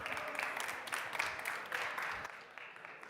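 Audience applause at a tech conference on the Spotlight Stage as a speaker comes on, a dense crackle of clapping that swells and dips over a few seconds, moderately loud, with no talk.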